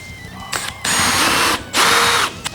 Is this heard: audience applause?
no